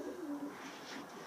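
Portuguese tumbler pigeons give a soft, faint coo, a brief low murmur heard once against quiet background noise.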